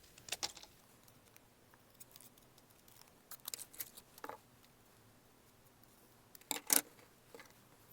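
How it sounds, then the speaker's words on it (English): Scissors cutting a paper shape for a handmade Eid card, giving faint, sparse snips and rustles in a few scattered bursts with quiet gaps between and no talking. "Now I am going to cut it by using this scissor."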